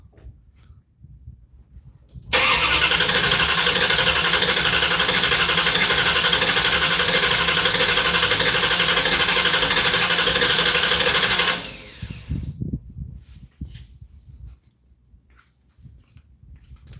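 The starter of a 1968 Plymouth Barracuda's engine whirs in a loud, continuous run of cranking for about nine seconds, then cuts off abruptly, leaving faint uneven low rumbles in a quiet space.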